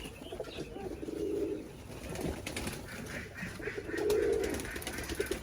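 Peacock-tail pigeons that are molting, kept in a loft room, give two low, rolling coos a few seconds apart, close by, with faint fluttering and chirps in the background and no talking.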